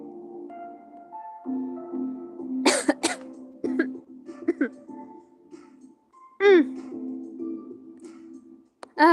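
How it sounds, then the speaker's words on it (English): A person coughs in several sharp bursts amid a stretch of voiced, hummed sounds, with a strong final cough at the end; close and fairly loud. "Coughing isn't fun."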